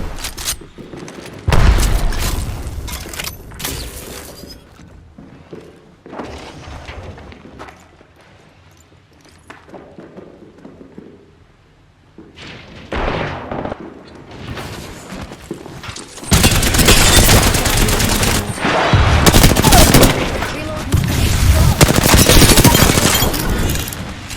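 Rapid bursts of gunfire in the battle royale shooter Apex Legends. The firing is loud and broadband, coming in clustered volleys with quieter gaps between them, and it grows denser and more sustained toward the end.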